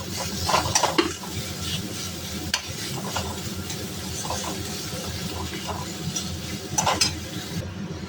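Potatoes tossed in a pan with cumin, coriander, turmeric and chaat masala, a constant sizzle under irregular spatula scrapes and metal taps, close by, with a brief murmur of voice.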